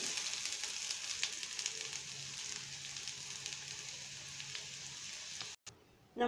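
Coconut stirred into sautéed masala in a pan makes a soft, steady sizzle with faint stirring, ending in a brief pause and a sharper clatter.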